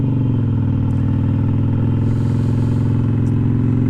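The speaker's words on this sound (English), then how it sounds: "I'm revving my bike out a little bit more because I can't be afraid to rev this bike out" A Harley-Davidson Iron 883 motorcycle engine runs loud and close, with a steady, throbbing drone and no voices.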